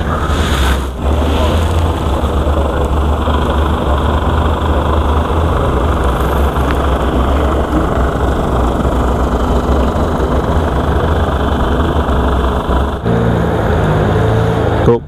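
A five-horsepower outboard boat engine idles loud and close, a steady low drone with a brief break near the start and a shift in tone near the end.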